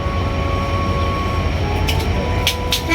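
A passenger train bound for Cox's Bazar begins to move, heard from inside as a steady low rumble with faint tonal whines and a few brief bright clicks near the end, with no talk.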